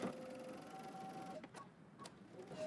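A sewing machine stitches a pant seam with a back stitch, running in a steady quiet whir before stopping, then a couple of short sharp clicks follow; no voices.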